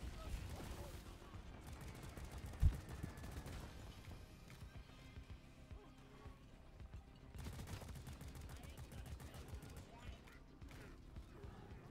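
Rapid gunfire bursts from a first-person co-op shooter game crackle through much of the stretch, with a sharp impact near the start, while players chat over voice.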